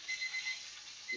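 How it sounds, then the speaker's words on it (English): A kitchen timer alarm beeps in quick repeated bursts while chicken with mango sauce is being cooked, steady and fairly close, with no voices over it. "And timer, I love you, but shut up."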